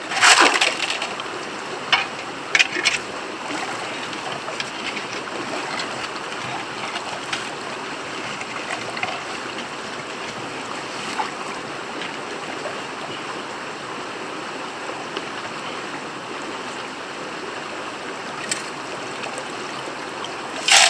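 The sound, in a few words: washing rocks and gravel in water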